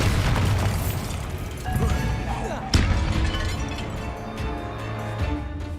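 A Bombarda blast spell cast in Hogwarts Legacy erupts as a loud booming explosion with a sharp burst in the middle, set among continuous game sound effects and music.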